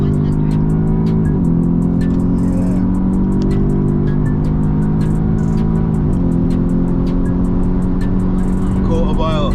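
An Audi S3 8V or Mercedes A35 AMG with four-wheel drive launches for a quarter-mile run, its engine droning loud and steady with rising pitch between gear changes, heard from inside the car under talk.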